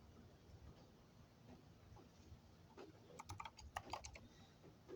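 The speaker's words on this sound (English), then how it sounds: "you might hear me typing occasionally" Fingers type on a 61-key RGB backlit mini keyboard, a quiet irregular run of clicky keystrokes emerging late over soft room noise, faint and close.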